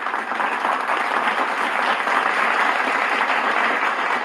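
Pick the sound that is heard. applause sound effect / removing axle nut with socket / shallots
applause sound effect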